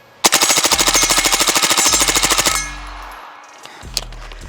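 A suppressed Springfield Kuna fires a long rapid burst in super safe mode, about two dozen evenly spaced loud, close shots, followed by fainter mechanical clatter and a couple of later clicks.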